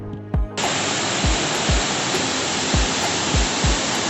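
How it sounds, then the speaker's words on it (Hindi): A small Himalayan waterfall on the mountain road from Rampur toward Jeori, a steady broadband rush of falling water, loud and close, with a few low thumps near the start. "और यहाँ पर है एक छोटा सा वाटरफॉल जहाँ की हमने बहुत इंजॉय किया।"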